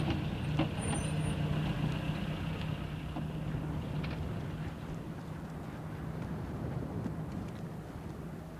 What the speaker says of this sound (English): Today in Oman, the trucks carry game wardens and biologists.